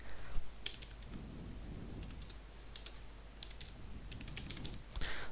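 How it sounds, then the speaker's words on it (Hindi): Close, quiet tapping on a computer keyboard, scattered key clicks in short bursts that end on a firmer keypress like Enter. "और एंटर प्रेस कर दीजिए।"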